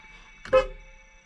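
A car horn gives one short, close, loud honk that rises sharply and fades within a fraction of a second, set against quiet background ambience.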